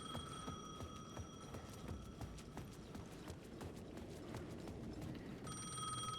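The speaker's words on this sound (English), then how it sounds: "The payphone at the edge of the plaza was ringing again." A payphone in the video game Alan Wake 2 rings with a rapid, steady bell trill that repeats continuously at an even level, with no voices over it.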